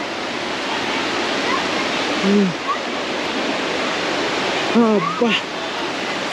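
Waterfall at Los Dinamos in Mexico on a trekking trail, a loud continuous rushing roar throughout, with brief voices and an exclamation heard over it.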